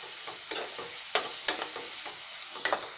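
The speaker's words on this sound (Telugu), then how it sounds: "ఇదిగోనండి నిమ్మకాయ దోరగా వేయించుకున్నాను" Lemon pieces frying in a pan for pickle are stirred with a spoon, producing a steady sizzle punctuated by several sharp scrapes and taps against the pan, close and clear with no talking.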